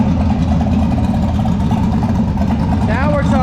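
A truck's new motor idles steadily and evenly after starting, a loud, close, rumbling drone, with someone talking over it.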